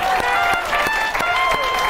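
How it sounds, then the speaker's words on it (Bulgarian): A studio audience on a Bulgarian TV talk show applauds for Luiza, with steady rhythmic claps, about three per second, ringing over bright music. "Аплодисменти за Луиза."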